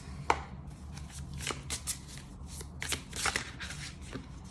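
Tarot cards shuffled up close, a run of crisp riffling bursts and soft slides repeating over several seconds, no voice over them.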